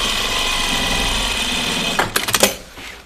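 A sewing machine runs in a steady, continuous hum while understitching fabric, close and fairly loud, then a few quick mechanical clicks and taps follow as it stops.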